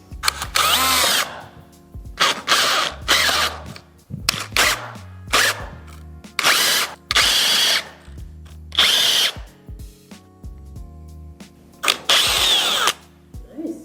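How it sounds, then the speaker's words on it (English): A power drill runs in repeated short bursts, whining loudly as it bores mortises into wood for chair legs, with brief pauses between each burst. "now I'm drilling the mortises for the front legs"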